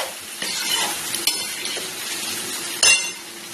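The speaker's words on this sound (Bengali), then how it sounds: "সব সবজি, চাল, ডাল সব একসঙ্গে কষে নিলাম।" Spices, vegetables, rice and lentils frying together in a pan, a close, lively sizzle broken by stirring scrapes and sharp clinks of a utensil against the metal.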